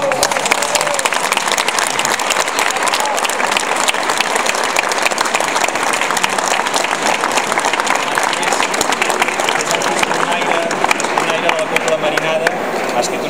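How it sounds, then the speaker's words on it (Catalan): Sustained applause from a sardana audience in Ripollet greeting composer Martí Fontclara, loud dense clapping from a large crowd continuing unbroken throughout, with scattered voices mixed in. "Un aplaudiment."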